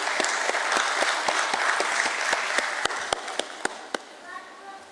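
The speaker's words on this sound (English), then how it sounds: "Let's welcome him with a huge round of applause" Audience at a stock exchange listing event welcoming a speaker with a round of applause, dense clapping that thins out into a few sharp individual claps near the end.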